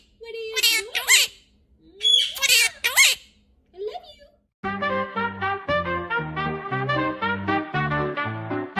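A macaw gives a few loud, raspy squawks and speech-like mimicking calls in short bursts, then a dense run of steady pitched notes, like music, carries on to the end.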